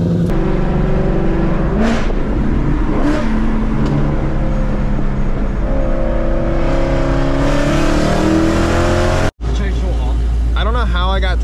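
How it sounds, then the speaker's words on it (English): A sports car engine revs hard with rising and falling pitch, sharp dual-clutch transmission downshift blips and a brief cut near the end, loud and close. "Wait till you hear the DCT on the downshifts."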